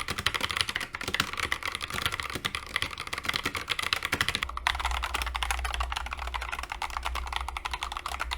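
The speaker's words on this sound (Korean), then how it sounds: "키보드를 칠 때 아래쪽에 수건을 깔고 타이핑을 해보면 미묘하게 느낌과 소리가 다르거든요" Rapid, steady typing on a computer keyboard with a towel laid underneath as a cushion, close and continuous clicking throughout, joined by a low hum partway through.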